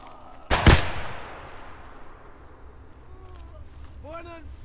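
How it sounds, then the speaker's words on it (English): A single loud burst of gunfire cracks up close in the video game Escape from Tarkov and rings out into a decaying tail, followed by someone speaking. "There's another one shooting at me."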